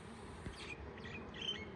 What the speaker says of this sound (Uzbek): Ana lekin uchib kelgan arilar